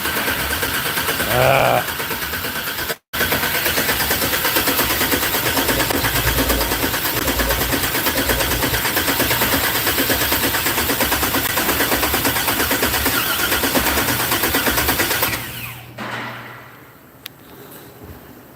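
A 1964 GMC truck engine fires up for the first time and runs loud and close with a rough, steady roar for about fifteen seconds before cutting out, leaving a quiet tail; a person briefly exclaims near the start.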